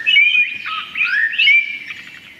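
A songbird sings a quick, bright phrase of warbling, sweeping notes, close and clear over faint background noise, in two or three bursts.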